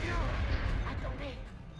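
Grenade blast in the XCOM: Enemy Within video game, a dense, rumbling low boom that carries on through the whole moment amid continuous battle noise, loud and close.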